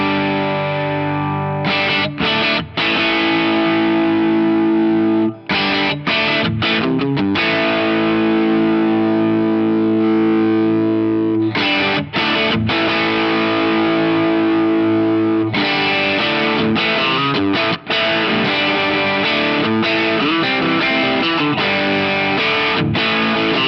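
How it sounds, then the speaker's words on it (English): Electric guitar driven through a Tube Screamer with symmetrical clipping stacked into a super overdrive with asymmetrical clipping on an FM3, playing loud, thick distorted chords and riffs with brief pauses between phrases, no talking. "Tube Screamer with symmetrical clipping, blend that in with something like a super overdrive with asymmetrical clipping in there"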